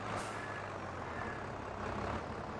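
A heavy truck reverses toward pallets of material in Landwirtschafts-Simulator 22, its low engine drone steady and close, with a brief hiss like an air brake at the start and no talk.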